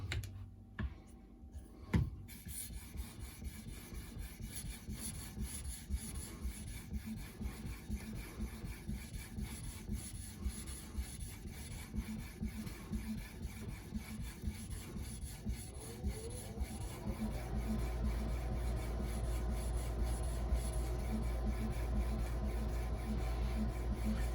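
Benchmade Nim Cub knife with a 154CM steel blade being honed on an Edge Pro sharpener, a steady close scraping and rubbing of stone on steel in repeated strokes, growing denser and louder in the final stretch.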